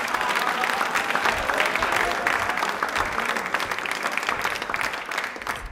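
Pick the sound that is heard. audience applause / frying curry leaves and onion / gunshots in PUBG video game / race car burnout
audience applause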